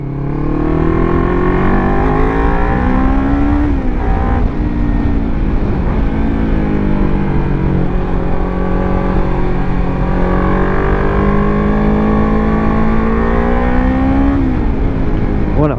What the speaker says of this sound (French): ça c'était pour vous donner un petit peu de bruit